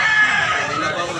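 Roosters crowing at a crowded chicken market, a loud close crow with clucking fowl and murmuring crowd voices underneath.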